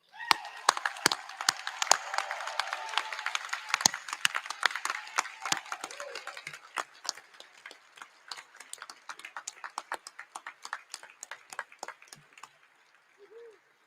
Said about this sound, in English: Will all of our graduates please stand for a round of applause?